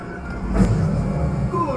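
A train rumbles past briefly during the Millennium Falcon: Smugglers Run ride at Disney's Hollywood Studios, a short, close low rolling roar over the ride's soundtrack.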